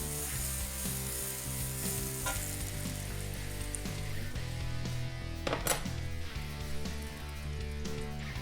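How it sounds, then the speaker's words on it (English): Butter melts and sizzles in a heated pan: a continuous, crackling fry hiss with occasional light clinks, over background music and without speech. "Once your pan is heated up, add on some butter."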